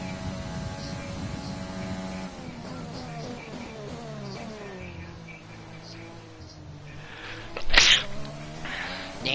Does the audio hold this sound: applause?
no